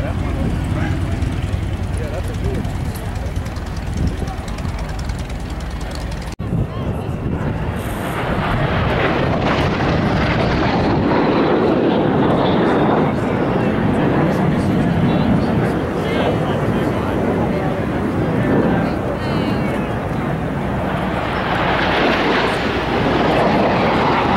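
An airplane makes a low pass with landing gear extended along the show line at the Waukesha airshow, a loud, sustained engine roar that swells as it passes, with an announcer talking over it.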